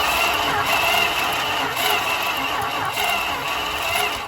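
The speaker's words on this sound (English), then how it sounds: "Crank the engine over." A 1974 Dodge Monaco engine turns over on the starter with a continuous, steady cranking drone throughout, loud and close, with no speech.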